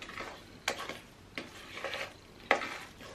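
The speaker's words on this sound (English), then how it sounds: "we're just going to keep mixing until it's all together" A spoon stirring a batter or mixture in a bowl at home, giving soft, quiet scraping swishes with a few sharper taps against the bowl spaced about a second apart.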